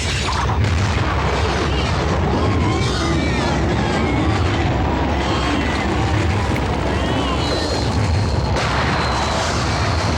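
Landmine explosion in a film fight scene, a loud sustained boom with rumbling low end filling the whole stretch, mixed with heavy action noise and voices.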